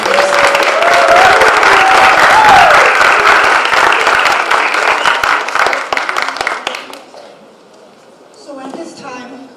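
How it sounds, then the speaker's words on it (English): Sustained applause from an audience at a civics bee competition, dense and loud for about seven seconds before fading out, with a voice talking briefly over and after it. "Let's have another round of applause for all the competitors"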